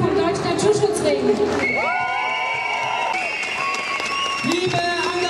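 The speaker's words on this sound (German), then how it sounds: "einen tosenden Applaus für das Jugendnetzwerk mit Martin Geilhufe" Audience applause and cheering at an outdoor rally for a youth network, a steady crowd roar with whoops under a loud public-address voice.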